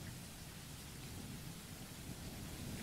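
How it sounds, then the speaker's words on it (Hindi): Heavy rain pours steadily on a highway at night, and low thunder rumbles beneath it. The dense, even wash is fairly faint and constant throughout, with no voices. "और वैसे भी इतनी बारिश में"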